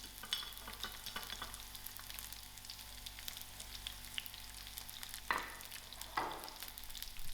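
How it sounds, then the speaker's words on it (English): Onions tossed into a pan of already-fried garlic and ginger for restaurant-style chilli paneer give a soft, quiet frying hiss, broken by two brief stirring scrapes near the end. "My garlic and my ginger is fried, so I'm just going to add in my onions."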